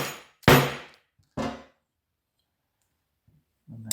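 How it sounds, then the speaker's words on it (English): A small hammer taps a part into a Harley-Davidson master cylinder during a rebuild: two sharp metallic clanks about a second apart, followed by near silence and a faint knock at the end. "just get it on its end and then just tap it in. We just use a little hammer."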